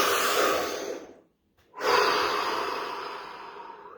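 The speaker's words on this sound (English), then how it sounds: "So last time, deep breath" A single deep breath is drawn in slowly and close, then released in a long audible exhale after a brief near-silent pause, with no words spoken.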